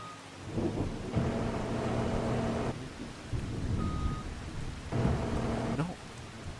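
Rain and thunder in the farming video game Farming Simulator 25 during a harvest, with steady rainfall hiss under repeated low, rolling thunder rumbles that swell and fade, and no talk over it.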